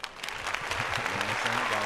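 An audience at a men's panel discussion claps for a guest in a dense, continuous burst of applause, with a voice faintly speaking underneath.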